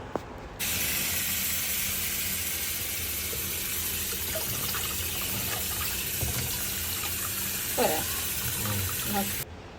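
Broccoli rinsed under a running kitchen tap makes a steady, close hiss of flowing water that starts abruptly and runs evenly, with small splashes near the end before it cuts off.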